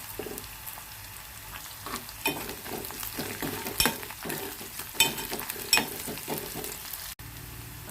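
Onion, green chili and curry leaves fry in hot oil with a constant crackling sizzle and intermittent spatula stirs and taps, close up and fairly quiet.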